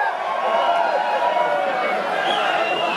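Live crowd at a metal concert at Z7 in Pratteln, a dense sustained roar of cheering and shouting from a large audience, steady and loud throughout with no break.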